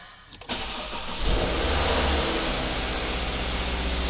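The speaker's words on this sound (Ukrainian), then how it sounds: "Що, пробуємо запускати натискаємо гальма." A 2024 Subaru Legacy engine cranks briefly, then catches and settles into a steady, loud idle that continues to the end.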